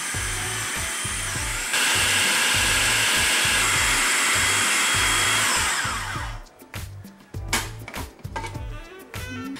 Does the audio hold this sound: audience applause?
no